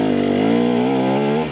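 Motorcycle fitted with a Rekluse auto clutch idles while coasting through a corner, a close, loud, steady engine drone with slight pitch wobble that fades a little at the end.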